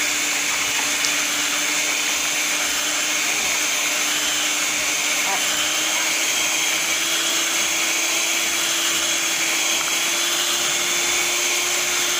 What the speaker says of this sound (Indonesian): bahan-bahan ini kita mixer dengan kecepatan yang maksimal.